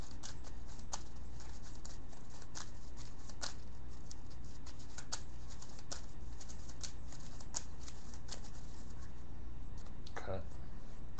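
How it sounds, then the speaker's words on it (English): Pokemon trading cards shuffled by hand during a game, a steady series of quick soft riffling clicks and snaps repeating throughout, close to the microphone and fairly quiet. "Shuffle my hand in and draw 6."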